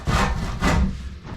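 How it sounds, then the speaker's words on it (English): A handsaw rasps through cedar on compound bevel cuts for a wooden boat's sole, two close, loud back-and-forth strokes with a broad woody scrape. "because this is cedar and they're compound cuts, it's actually easier to do this with a handsaw."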